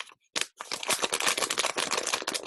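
Crisp, dense crinkling of a paper UK £20 banknote handled close to the microphone, a continuous rustle of rapid crackles after a brief opening snap.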